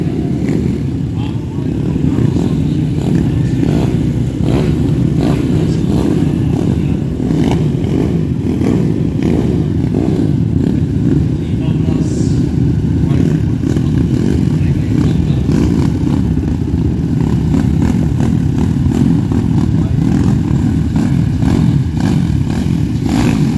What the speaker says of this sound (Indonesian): suaranya motor kecil